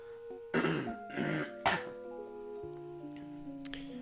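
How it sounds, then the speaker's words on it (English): A person nearby coughs and clears their throat three times in quick succession, with quiet background music underneath. "Sorry, I need to cough."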